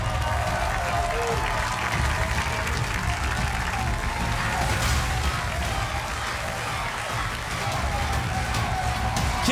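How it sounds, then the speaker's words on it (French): A studio crowd at a reality game-show finale gives the two finalists a thunderous ovation, with dense steady clapping and cheering that holds at full volume throughout. "je vous propose tout de suite de réserver un tonnerre d'applaudissements pour les 2 finalistes"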